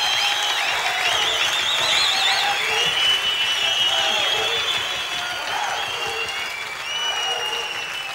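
Studio audience at a Turkish television show applauds after a musical performance: dense, sustained clapping fills the room at steady volume for several seconds with no pauses.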